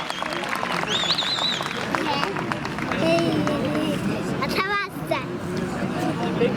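Crowd applause and cheering at an oil wrestling tournament fill the space, a dense wash of clapping and voices, with an announcer talking over it.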